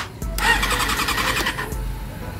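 A Honda CB400 motorcycle engine cranks briefly with a rapid, rough churning burst for about a second and a half, then cuts out without catching, heard close and loud.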